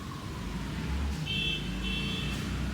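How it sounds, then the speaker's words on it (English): A car horn outside beeps twice in quick succession, a short pair of honks set against a windy, rumbling background, moderately distant. "I think it was him that beeped."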